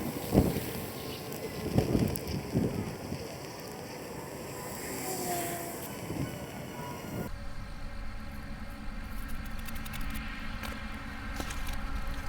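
Outdoor wind buffeting a microphone, a steady loud rumbling roar with gusty bursts that continues without pause throughout, no voices.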